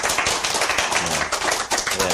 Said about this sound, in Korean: 여러분 자신들을 위해서 박수 한번 보내주십시오.